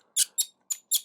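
Four sharp, high squeaks in quick succession come from the stiff shoulder joint of a Transformers Starscream figure (Planet X Mors) as it is moved, close and clear against silence.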